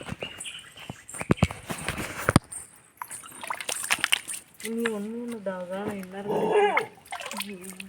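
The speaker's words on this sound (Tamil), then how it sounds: "இந்த நாய் வேற ஒரு பக்கம் நம்மளே பயமுறுத்துது" A dog barks several times at a rural forest temple near Harur, its harsh calls rising over people talking and splashes of water.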